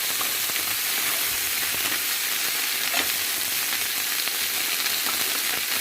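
Sliced potatoes and mushrooms fry in a pan for rabbit in mustard with lardons, giving a loud, steady, close sizzle that hisses on without pause, with faint stirring ticks now and then.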